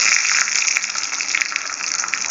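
A tempering of chana dal and urad dal goes into avaraikkai kootu with a hissing sizzle, a bright continuous frying crackle heard alone and up close.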